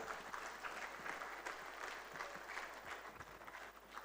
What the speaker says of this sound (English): Can we give a big, big round of applause to the people of Gambia who have welcomed us